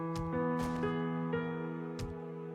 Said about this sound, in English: That little music rift means the sun is coming up.